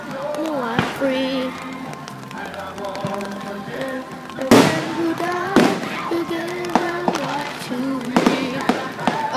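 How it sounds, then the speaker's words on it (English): Fourth of July fireworks go off in a steady barrage of sharp bangs and crackles, several louder bursts clustered together, with people talking and exclaiming excitedly over the display. "Small barrage of like fireworks there."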